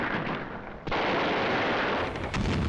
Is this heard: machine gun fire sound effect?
yes